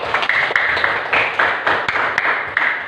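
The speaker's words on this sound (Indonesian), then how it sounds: "Beri tepuk tangan untuk yang piket." Children in a classroom clap their hands together in a rhythmic, fairly loud burst of roughly a dozen sharp claps at a steady pace.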